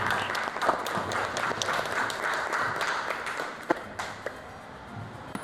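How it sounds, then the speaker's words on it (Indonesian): A classroom of students claps together, a brisk burst of applause that is strongest at first and thins into a few scattered claps by the end. "Berikan tepuk tangan."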